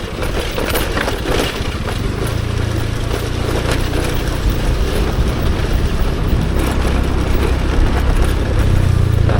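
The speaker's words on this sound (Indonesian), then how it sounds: "Kedengeran ya bunyi motor saya ya" A motorcycle being ridden drones steadily and close by, its engine noise mixed with a continuous rattling throughout, with no talking.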